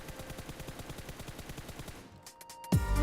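Rapid automatic gunfire sprays in PUBG Mobile, a fast even burst of shots lasting about two seconds, then stopping, followed by a short metallic game sound.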